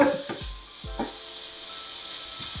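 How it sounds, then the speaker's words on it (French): Garlic cloves being stirred in a hot pan with a utensil, a few scraping strokes over a soft steady sizzle, close and fairly quiet, no talk. "Là, j'ai mis 3 gousses d'ail. Voilà, je mélange un peu."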